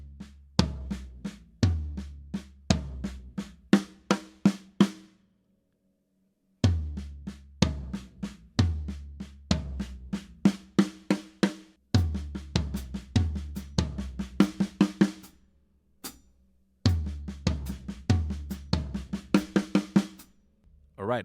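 Acoustic drum kit fill grouped between rack tom and floor tom and ending with right-left strokes on the snare, played in close, crisp repeated phrases with short pauses between runs, with no talking.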